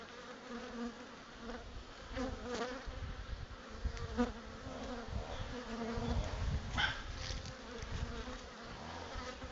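Honey bees buzzing around bee packages at an apiary sales day, a dense, continuous swarm hum with individual bees droning close by at moderate volume.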